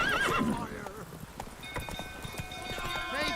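Roach, the horse in The Witcher 3, neighs loudly at the start, then hooves thud in quick galloping beats, with another whinny near the end and a voice calling briefly amid game sounds.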